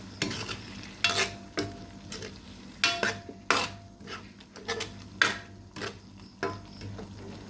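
Tender pork soft ribs tossed and frying in a pan, with repeated loud spoon-and-pan scraping bursts at an irregular rhythm over a light sizzle.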